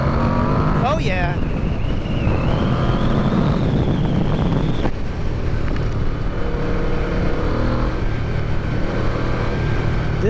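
A Yamaha VMAX motorcycle with the V-boost engaged accelerates hard in second gear, its engine rising to a loud roar and then dropping after a shift, under heavy wind noise.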